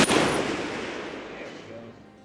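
A Ruger SFAR rifle fired at a distant target: a single loud shot at the start, then a long echoing tail that slowly fades, with no talk.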